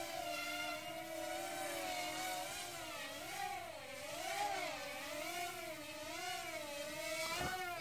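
Hubsan X4 Plus H107P quadcopter climbing under throttle with altitude hold on, its small motors giving a steady high whine that rises and dips in pitch as the rotors speed up and slow, close and fairly loud.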